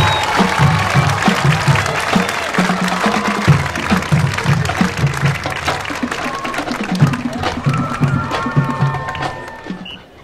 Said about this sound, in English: Give them another round of applause, ladies and gentlemen, they exit the field.